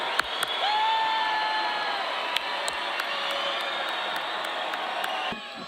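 A large crowd cheers and whoops steadily for graduates at a school board meeting, a dense roar of voices with scattered claps and a brief whistle near the start.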